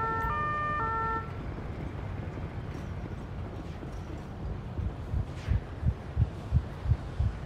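A wailing ambulance siren in the GTA 5 video game sounds at first, then quickly fades out, leaving a steady background of in-game ambience with soft, rhythmic low thumps.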